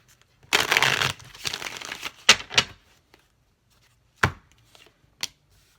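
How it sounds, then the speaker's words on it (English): A tarot deck is split and a single card pulled out, giving a quick burst of riffling and shuffling card noise followed by a few sharp slaps and taps, close up with no talking. "I just split the deck and pulled one out"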